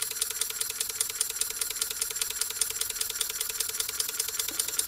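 Ertl John Deere Waterloo Boy model tractor fitted with a live steam engine runs alone, a fast, steady mechanical chuffing and rattling rhythm with bright metallic ticking throughout.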